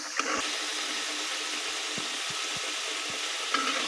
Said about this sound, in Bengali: ভালোভাবে কষিয়ে নিব যাতে পেঁয়াজ রসুনের কাঁচা গন্ধটা না থাকে একদম ভালো করে কষাবো